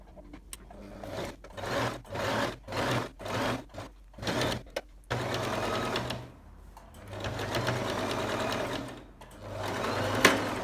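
A sewing machine stitches trouser pieces in short bursts, about seven quick runs of whirring stitches separated by pauses, then a longer continuous run and another toward the end, close and fairly quiet.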